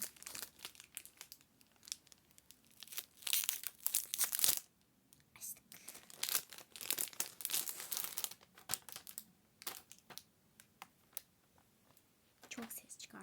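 A surprise package is torn open and its wrapping crinkles: steady, close crinkling and tearing rustles with brief pauses, while a soft, whispery voice talks throughout.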